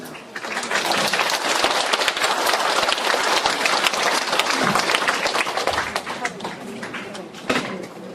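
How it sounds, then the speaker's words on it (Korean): Audience applause welcoming a lecturer onto the stage at a Korean humanities and philosophy forum, dense and sustained clapping from a large crowd for about eight seconds, close and loud throughout with no talking. "큰 박수로 환영해 주시기 바랍니다."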